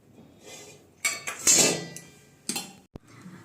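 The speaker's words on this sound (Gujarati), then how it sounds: "હવે આપણે ચાયણામાં ગાળ લઈશું અને એમાં થોડું જેટલું તેલ નાખશું" Cooked Hakka noodles drained through a colander in a home kitchen, with a few loud metallic clanks and clinks of pots and utensils separated by quieter stretches and a sharp final knock.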